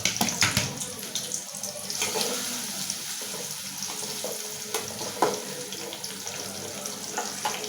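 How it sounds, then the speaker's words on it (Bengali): Chopped onions fry in a home kitchen pan before a bottle gourd dish, giving a steady broadband sizzle with intermittent stirring clatter and scraping, close and fairly loud, with no talking. "তো আমি আগে পেঁয়াজটা ভাইজা নিব।"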